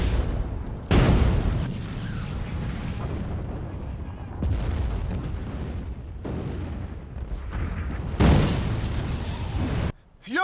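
Heavy bombing barrage from a war drama episode: repeated loud, close explosions and booming blasts roll over one another in a dense wave, with brief shouted voices buried in the chaos before a sudden drop to near silence.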